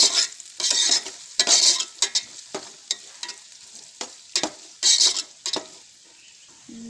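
Onions fry in oil as the first step of natu kodi (country chicken) fry, with loud bursts of sizzling and stirring scrapes in quick, uneven clusters that thin out toward the end.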